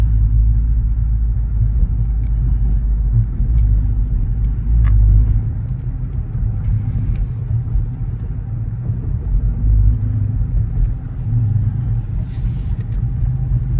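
Dodge Charger RT engine rumbling steadily while cruising on a very cold day, a loud, deep, continuous drone heard from inside the car with slight swells in level.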